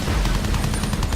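Rapid machine gun fire during an aircraft strafing run in the Battlefield 1 video game, a dense, continuous burst of loud gunshots with heavy low rumble throughout.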